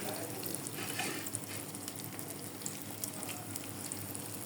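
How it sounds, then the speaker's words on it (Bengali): Food fries in a pan as an afternoon snack is made in a home kitchen, with a soft, continuous sizzle and crackle, fairly quiet and steady, and no talking. "এটা ভাজা হতে থাক"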